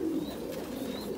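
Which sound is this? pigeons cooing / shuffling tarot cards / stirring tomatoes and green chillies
pigeons cooing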